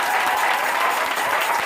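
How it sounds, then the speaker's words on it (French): A church congregation bursts into loud, sustained applause with cheering, dense clapping filling the space evenly from start to finish without pause. "Acclame-le très fort."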